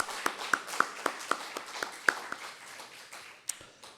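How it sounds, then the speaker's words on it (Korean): Applause rises from a church congregation at a Sunday morning service, a scattering of separate claps at first, then blurring into a soft, thin wash that fades out, one louder clap near the end. "우리 하나님께 큰 박수로 한번 영광 돌리겠습니다."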